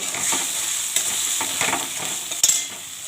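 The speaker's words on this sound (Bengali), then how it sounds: "এবার নাড়বো।" Jackfruit curry with salt, turmeric and a splash of water is stirred in a hot pan, a steady close sizzle punctuated by a few scraping strokes of the spoon.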